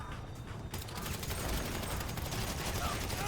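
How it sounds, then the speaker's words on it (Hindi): Dense gunfire rattles in GTA V Online during a server hack facility mission, rapid overlapping shots filling the whole stretch, with someone talking over the action. "यहाँ पे हम फायरिंग ले रहे हैं"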